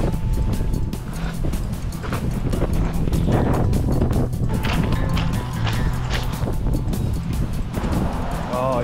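Strong, cold wind buffets the microphone outdoors in springtime Alaska, a continuous loud roar and rumble with gusty surges that persist throughout and nearly drown everything else.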